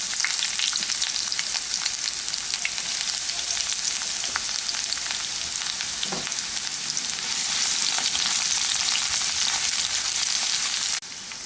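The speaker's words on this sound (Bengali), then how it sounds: "এখন প্রথমেই তেলের মধ্যে এই কুচানো পেঁয়াজটাকে দিয়ে ভেজে নিচ্ছি" Chopped onion sizzles loudly in hot oil with panch phoron seasoning, a dense, even hiss that holds close and steady for the whole stretch, briefly softening at the very end.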